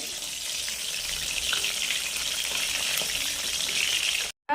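Lote fish chops fry in hot oil, giving a continuous close sizzling hiss with scattered small pops that stays even throughout and drops out abruptly just before the end.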